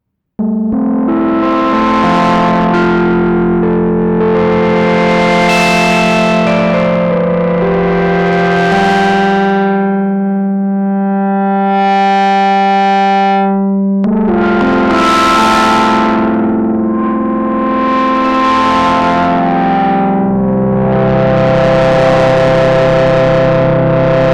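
Sustained synthesizer chords on a Novation Peak with a gritty, distorted edge, played loud and continuous, with a brief thinner filtered passage midway; no voices.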